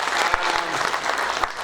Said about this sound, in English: I think a big round of applause to our presenters this morning